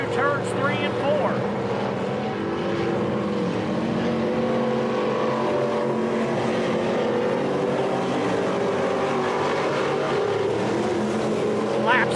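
Midwest Modified race cars roar around Springfield Raceway in a loud, sustained engine drone, with a commentator talking over the pack throughout.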